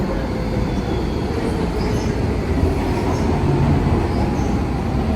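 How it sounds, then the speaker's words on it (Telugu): A driverless train on a London light-rail line arrives at a station with a continuous loud rumble of wheels on track, light clickety-clack and faint high squeals from the wheels, with no voices. "మన ట్రైన్ వస్తుంది."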